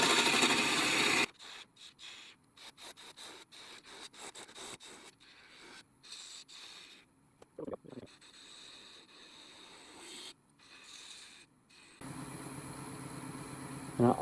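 A wood lathe turns a miniature vase while a bowl gouge makes quiet, intermittent scraping cuts, with short rubbing bursts separated by pauses.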